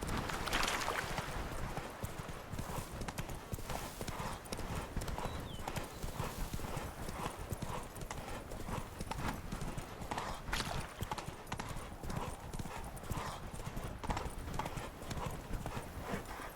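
Steady, rapid horse hoofbeats clip-clop throughout in The Witcher 3: Blood and Wine, with an occasional whinny near the start and some background noise layered underneath.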